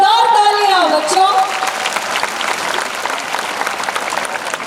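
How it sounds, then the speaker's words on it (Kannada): Students at a large school Independence Day celebration break into loud, sustained applause. The clapping is dense and even, and a voice is heard briefly at the start before the applause carries on alone. "जोरदार तालियां बच्चों."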